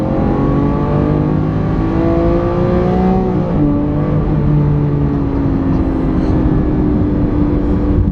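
A Lamborghini Aventador's naturally aspirated V12 revs above 6,000 RPM, a loud, sustained engine howl whose pitch climbs and holds, with no talking.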